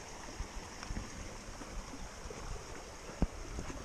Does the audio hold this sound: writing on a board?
no